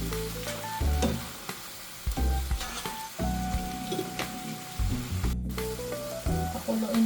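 Lemon juice and soy sauce hit a hot pan of pork menudo, giving a steady close sizzle with a few clinks and stirring scrapes throughout, no voices.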